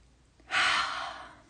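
A single deep breath drawn in during a guided forgiveness exercise, rising sharply and holding as a steady, close, airy inhale for about a second before slowly fading, with no talking over it.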